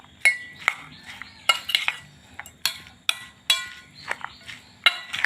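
A spoon clinks sharply against a bowl while bhakri chaat topping of raw salad is mixed, with a steady, irregular run of close, bright metallic taps and scrapes and no voices.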